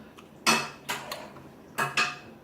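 Watermelon being stirred together with Cheetos in a dish, giving a few separate clattering, scraping strokes with quiet pauses between them and no talking.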